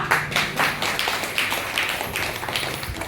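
An audience claps in a steady, regular rhythm at a Kannada motivational talk on women's personality, the claps close and evenly spaced with no voice over them.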